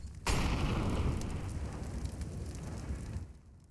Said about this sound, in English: A nade's coming through. That's going to do some damage.